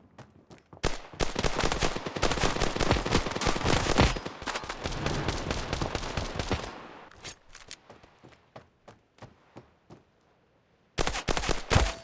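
Loud, rapid gunfire in the mobile shooter Standoff 2, a dense burst of automatic shots for several seconds, then scattered single shots thinning out, a short quiet gap, and another sharp burst at the end.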